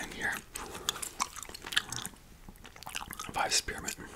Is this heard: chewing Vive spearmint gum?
yes